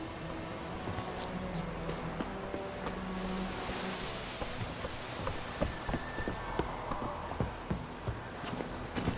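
Horse hooves clip-clopping in The Witcher 3, a quick, uneven rhythm of soft thuds over a rain-like ambient wash, fairly quiet with no one talking.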